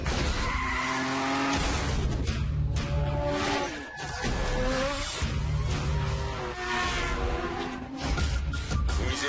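Race cars in the video game Need for Speed Shift roar and rise through the gears, with a shifting whine, short dips between shifts and tire squeal, loud and continuous with no speech.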